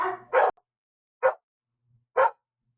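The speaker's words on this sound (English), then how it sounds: "Hey, why are we barking?" Dogs bark nearby in three sharp, separate bursts spaced about a second apart, loud and clear against near silence, the first bark preceded by a brief whine.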